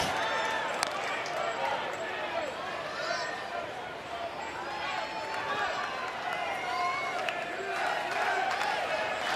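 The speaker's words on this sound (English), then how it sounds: "And the crowd's chanting, "Let's go, Blake."" Baseball crowd noise at an Alabama versus Texas game, a continuous murmur of many voices with rhythmic chanting and cheering, mid-distance and steady, with a commentator talking over it.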